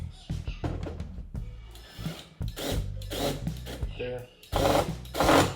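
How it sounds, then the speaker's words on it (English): A power drill drives screws into the corners of a Frigidaire Gallery dishwasher during a door latch repair, whirring in short bursts of rising intensity close by, with someone speaking briefly. "I'm gonna get these on the corners here, gently with the power drill."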